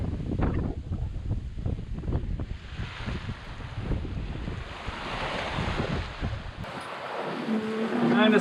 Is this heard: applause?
no